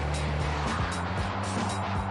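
A BMW sports car drives on a desert road, its engine note rising and shifting in a steady near drone with tyre noise beneath.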